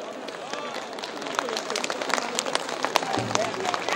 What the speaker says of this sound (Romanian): pe care eu zic că n-ar fi chiar rău așa să-i aplaudăm un pic